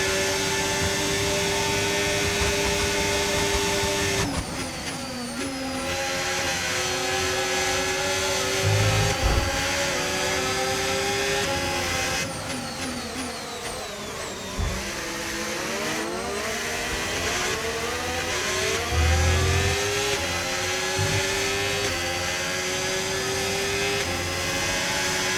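An F1 25 race car in a racing game comes in for a pit stop at the British Grand Prix circuit, its loud high-revving engine whining and shifting pitch, easing off as it slows and then revving back up, with no talking.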